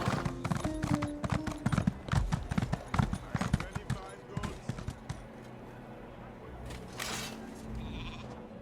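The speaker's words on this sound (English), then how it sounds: "The horses are restless." Horse hooves clip-clop in a fast, uneven run in Elder Scrolls Online, loud and close for about four seconds, then thinning out to scattered steps over a low rumble, with brief animal bleats mixed in.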